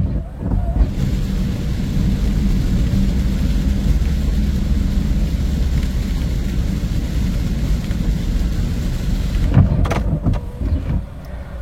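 Heavy rain drums steadily on a car while it is being driven, a dense, loud roar that lasts throughout, with a brief louder rumble near the end.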